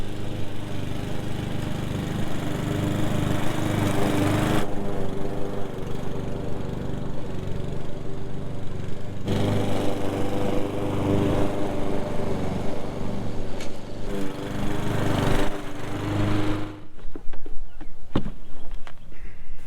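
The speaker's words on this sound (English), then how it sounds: "set your mower deck as low as it can go. Second, mow your lawn and collect all the clippings." Lawn mower cutting grass with the deck set as low as it goes in spring, a loud, steady close engine drone with a grinding whir that holds throughout, shifting slightly in tone as the mower moves.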